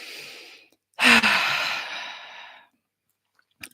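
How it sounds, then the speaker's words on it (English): One deep breath during a guided calming exercise: a quiet breath in first, then a loud, close, drawn-out exhale like a long sigh that fades over a couple of seconds, with no one speaking. "take a nice deep breath in and out"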